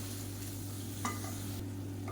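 Chettinad green field bean masala sizzling in a hot pan over a steady low hum, with a brief scrape of stirring partway through.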